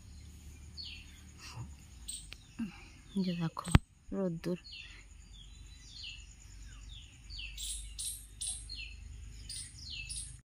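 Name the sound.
birds chirping in the morning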